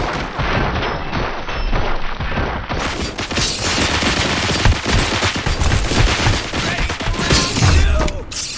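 Sustained rapid gunfire fills a RoboCop: Rogue City battle, dense automatic bursts and impacts rattling on continuously at close range with hardly a pause.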